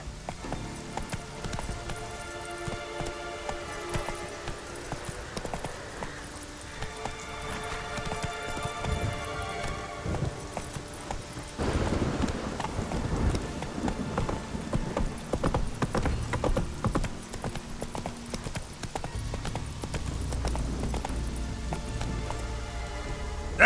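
A horse gallops in The Witcher 3: Wild Hunt, with continuous rapid hoofbeats over game music and ambience. The gait grows louder and busier about halfway through.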